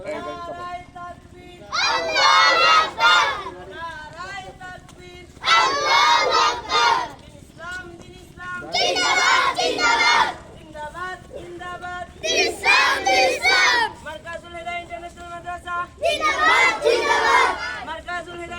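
A crowd of young voices at an Islamic madrasa gathering chants slogans in loud call-and-response bursts, a leader calling out and the group roaring back in unison about every three seconds, close and energetic.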